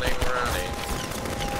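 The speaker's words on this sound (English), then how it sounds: "It's a machine gun!" Machine gun fire in the video game Half-Life 2, a dense continuous burst of rapid shots, loud and close, with a voice talking over it.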